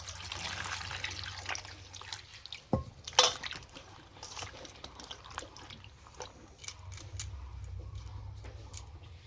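Chopped ash gourd pieces being washed in water, heard as faint splashing, dripping and trickling with a few soft knocks from a bowl, close up and quiet, without any talking.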